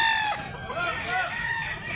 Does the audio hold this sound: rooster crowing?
yes